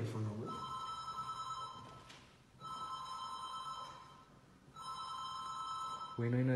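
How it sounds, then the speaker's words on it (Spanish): A telephone rings in an empty building, three long ringing bursts separated by short pauses; a voice speaks briefly at the very start and again at the end. "es el puto teléfono"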